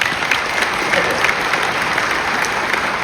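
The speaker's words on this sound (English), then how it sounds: "And I'm pleased to hear you clapping for that." A conference audience applauds steadily for about three seconds, a dense and even wash of clapping with no pauses and no voices.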